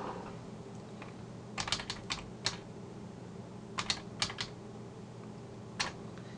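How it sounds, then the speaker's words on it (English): A username is typed on a computer keyboard in quick bursts of crisp clicks, separated by pauses, close and fairly quiet over a faint room hum. "So I'm going to type that back in."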